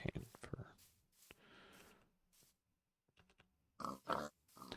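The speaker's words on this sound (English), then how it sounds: "Yeah, pigs." A pig in a Minecraft-style video game gives short grunts and oinks, heard in brief bursts between stretches of speech and other game sounds, moderately close.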